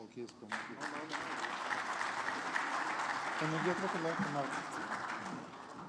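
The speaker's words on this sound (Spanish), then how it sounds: "Lo recibimos con un aplauso." Fairly quiet audience applause welcomes a speaker at a government agency conference, a continuous patter of clapping with a person talking over it for most of the stretch.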